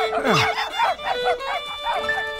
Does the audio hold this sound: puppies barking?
yes